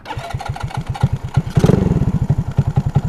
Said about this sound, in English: It's idling perfectly. Like, this idle is so freaking smooth.